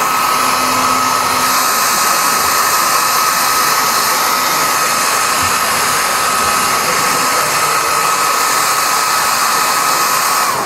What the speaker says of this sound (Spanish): Voy a hacer una cosa que no debéis hacer en vuestra casa, que es usar el secador de pelo.